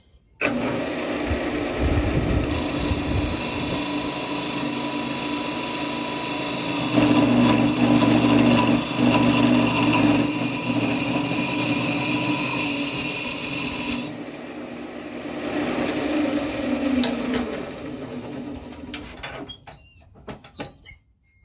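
Steady abrasive rasping of sandpaper against a cherry wood ring spinning on a lathe, loud and continuous for about fourteen seconds, then a softer, lighter stretch of rubbing before it trails off.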